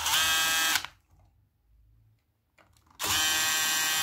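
Power screwdriver whirring loudly as it backs screws out of the frame of a Pioneer SX-1250 stereo receiver, two sustained bursts of drilling separated by a near-silent pause, close and steady.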